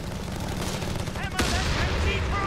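Gunfire in Company of Heroes 3, a World War II strategy game, with a sharp report breaking through a dense battle bed partway in, followed by scattered shots over steady rumble and game chatter.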